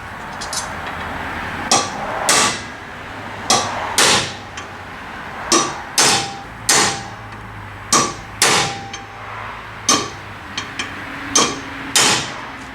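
Sharp metallic hammer strikes on a 1965 Buick Skylark during suspension work land in irregular pairs and singles, a dozen or more blows, loud and close with brief gaps between.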